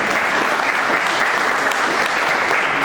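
A crowd at a Faith and Freedom Coalition gathering claps loudly and steadily, dense applause filling the room without a break.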